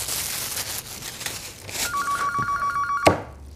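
Telephone ringing indoors during a tense family scene in a TV drama, a steady repeated electronic ring tone with a sharp knock near the end, set against room noise.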